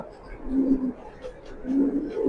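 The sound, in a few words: racing pigeons cooing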